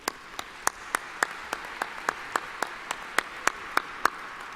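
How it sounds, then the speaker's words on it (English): Audience at a graduation ceremony in an arena applauds the Board of Trustees: sparse, distinct individual claps ring out in a steady rhythm over a faint hall background, with few hands joining in. "please join me in another round of applause for our Board of Trustees."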